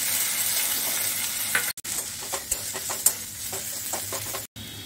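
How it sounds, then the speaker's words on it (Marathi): Cooked noodles stir-fried in a pan over a high flame with hot chilli garlic sauce, a steady sizzle broken by light scrapes and knocks of the spatula and two brief cut-outs, no talking. "नूडल्स परतून झाले, आता मी हॉट चिली गार्लिक सॉस घालते।"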